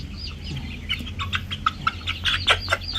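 Two-month-old Siamoganoy gamefowl chickens clucking in a series of short, irregular close clucks and chirps over faint background noise.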